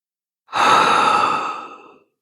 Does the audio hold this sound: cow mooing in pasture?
no